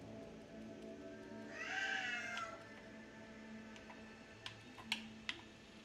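A house cat named Roast Beef lets out a drawn-out meow near the room, followed by light ticking and clicking like keyboard taps in a quiet space.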